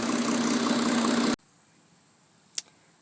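A Mercedes 350SDL 3.5-liter diesel engine runs loud and steady at close range, then cuts off abruptly to near silence, followed by a single sharp click.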